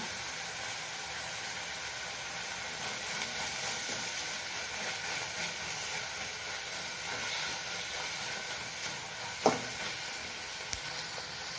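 A pan sautéing for a snake gourd dal gives off a steady, close hiss and sizzle, with one sharp clink near the end.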